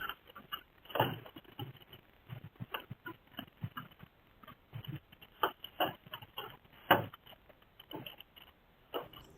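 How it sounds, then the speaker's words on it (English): Hailstones strike hard surfaces in irregular bursts of sharp clattering taps, some louder and nearer, picked up by a Ring doorbell camera outdoors with a parked car nearby. "Looks like a hailstorm."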